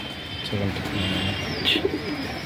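A Fulshira pigeon gives a soft low coo, brief and near, amid light background noise and faint outdoor sounds.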